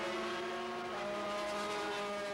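250cc racing motorcycles on the last lap at Donington Park, a loud continuous engine whine holding steady pitch as the bikes scream past, close and alone.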